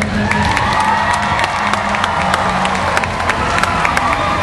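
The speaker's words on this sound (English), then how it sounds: "Can you clap a little longer so I can have a drink of water?" A large outdoor crowd at the 2010 Bonnaroo music festival claps, cheers and whoops between songs in a concert set. The broad, loud roar is continuous, with sharp individual claps and shouts standing out.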